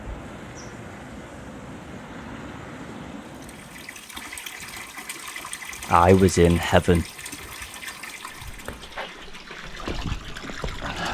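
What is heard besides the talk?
spring water flowing down in a valley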